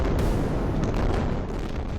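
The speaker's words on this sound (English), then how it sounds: "2 days later, Israel launches a 10-hour airstrike," Airstrike explosions hit the densely populated Gaza Strip in a dense, loud roar of deep rumbling blasts that merge into a continuous booming wall of sound, with no voices.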